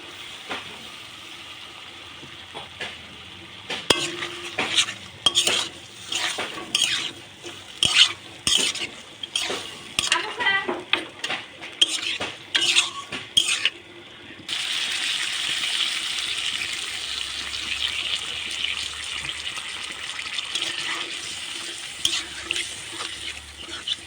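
Fish added to fried spice masala in a pot, with many sharp, close scraping and knocking stirs over a low sizzle, giving way to a steady, louder frying hiss.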